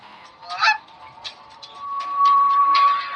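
A video game chicken lets out honking, squawking clucks: a sharp call, then a longer drawn-out cry with a steady whistling tone under it, loud and close, with no talking.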